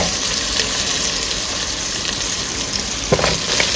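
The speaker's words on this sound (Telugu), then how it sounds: "ఒక్క 2 నిమిషాలు వేగనిద్దామండి మూత పెట్టేసి." Ingredients for coconut milk rice fry in a pan, giving a steady, dense sizzle close by with no break, and a sharp clink near the end.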